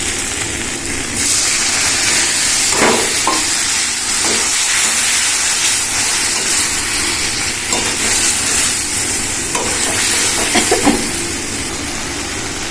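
Spice paste sizzling loudly in a pan while being cooked down with a little added water for a soybean dish, a continuous broad hiss with a few brief clinks and scrapes over it.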